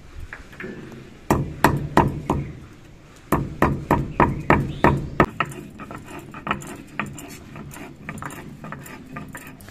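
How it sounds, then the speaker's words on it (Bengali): Two pieces of cinnamon stick are ground into powder, producing a run of sharp, irregular cracking and knocking impacts that come in quick bursts and then fade into lighter tapping. "এই দারচিনিটা আমি গুঁড়ো করে নিয়েছি।"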